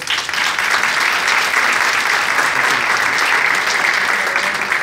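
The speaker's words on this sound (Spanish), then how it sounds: "Les pido un aplauso, por favor." An audience at a school Father's Day festival applauds in a dense, steady burst of clapping that stays loud and even throughout, close and without talk.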